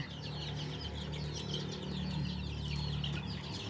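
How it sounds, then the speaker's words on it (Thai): Chickens clucking and squawking as they are caught and put into a basket, a dense stream of busy fowl calls with some wing flapping, close and fairly continuous. "จับไก่ใส่กระตา"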